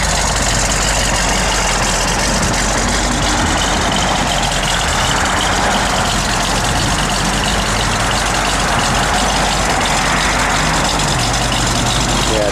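A 1970 Plymouth Cuda idles steadily with a loud, deep, continuous rumble that holds unbroken through the whole stretch, with no speech over it.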